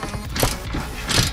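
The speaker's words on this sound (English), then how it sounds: "I got these nice deep sockets and these little swivel ratchets that work pretty good" Small swivel ratchet with an 11mm deep socket loosening a bolt on an Edge Mustang, giving a couple of quick, close mechanical clicks and creaks.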